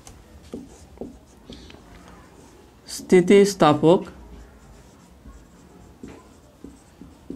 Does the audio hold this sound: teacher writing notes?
yes